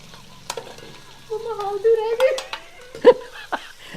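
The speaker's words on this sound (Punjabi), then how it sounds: "ਉਸੇ ਘਿਓ ਦੇ ਵਿੱਚ ਆਪਾਂ ਹਲਦੀ ਪਾ ਦੇਣੀ ਹੈ ਆਹ ਲਓ ਜੀ ਆਪਾਂ ਹਲਦੀ ਭੁੰਨਣੀ ਹੈ" Raw turmeric roasting in ghee in a pan gives a soft sizzle and stirring scrapes, with a voice and adult talk over it.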